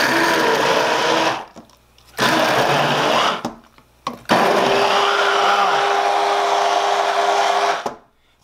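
A Litchi 4 in 1 hand mixer running in three close bursts, a steady motor whine stopping briefly twice between runs before the final long run ends.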